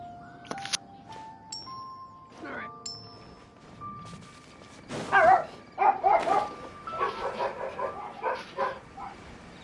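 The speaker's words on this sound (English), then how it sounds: "What are they barking at?" Dogs bark and yip in a video game during the Perilous Trail and Yelen story quest, several sharp barks bunched together in the latter half, over tonal game sounds and a voice.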